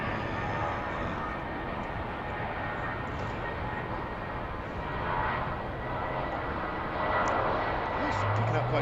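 A British Airways jet rolls down the runway at Heathrow on its takeoff run, a steady broad engine roar that swells slightly toward the end, heard from a distance while people talk over it.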